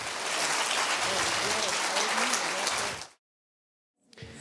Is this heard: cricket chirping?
no